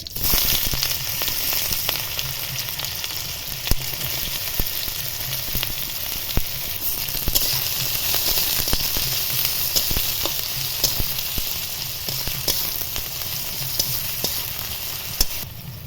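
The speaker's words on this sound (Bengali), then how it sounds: "এবার তেলের মধ্যে গোটা জিরে দেব, তেজপাতা, কুচি করে রাখা পেঁয়াজ" Whole cumin, bay leaf and chopped onion fry in hot oil for ghugni, a steady close sizzle with occasional crackles and stirring scrapes, no voices.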